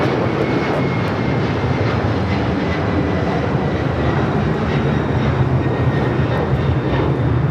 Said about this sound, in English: This is Latam Airlines 2479 taking off to Lima on the 767 300ER